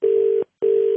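A telephone line gives two steady, identical beep tones after a call is cut off, each about half a second long with a short gap between, loud and clean with no voices.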